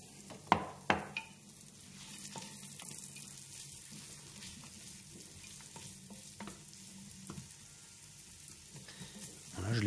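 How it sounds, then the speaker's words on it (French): Onions stirred and gently sweating in butter and oil in a pan for a pumpkin velouté: a soft, steady sizzle runs throughout, with a few sharp clanks of the spoon against the pan near the start. "Voilà, et là, je mélange mes oignons."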